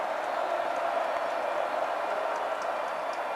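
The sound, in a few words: loud football stadium crowd noise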